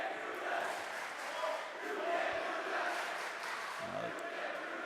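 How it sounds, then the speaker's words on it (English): Spectators chant at a high school boys basketball game in a gym, a loud rhythmic crowd roar that rises and falls over several seconds. "Crowd doing chants."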